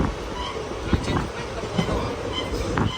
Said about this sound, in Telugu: ట్రైన్ వస్తుంది అక్కడ నుంచి